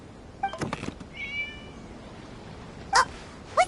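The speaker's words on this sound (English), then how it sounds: "It was just a cat." A cat meows in the video game Genshin Impact: a few short, clear meows in a quiet setting, one early cluster and two brief calls near the end, close and distinct with no talk.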